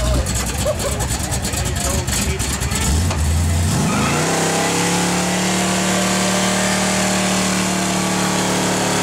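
A car engine revs hard during a tire burnout at a car show, loud and roaring, then settles into a sustained high droning tone, with people talking over the start.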